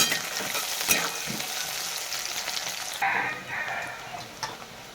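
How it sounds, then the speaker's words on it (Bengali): Sliced onions sizzle in hot oil with whole cardamom, cinnamon, cloves and dried chili, a steady bright frying hiss broken by stirring clatters, quieting a little partway through; no voices. "লাল লাল করে পেঁয়াজটা ভেজে নেব"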